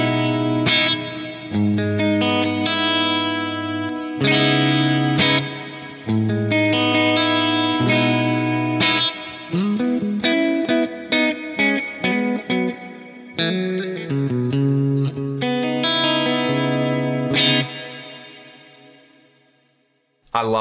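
Electric guitar played through a reverb effect with low and high frequencies cut from the reverb, clean chords and single-note lines ringing out with shimmering tails that fade away at the end.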